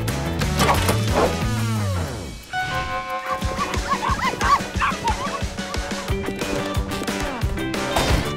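Puppies bark, yip and whimper in close, lively bursts, with a cluster of high yelps early on and a steady run of quick barks and yips afterward.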